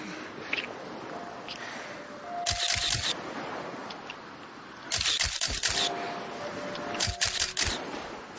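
Rapid bursts of camera shutter clicks fire in three quick volleys, like a crowd of paparazzi snapping, over a busy background of low noise and murmuring.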